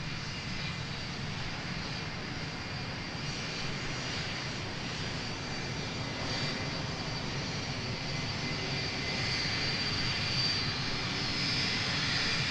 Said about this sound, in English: So get the heavies coming along the taxiway right in front of us.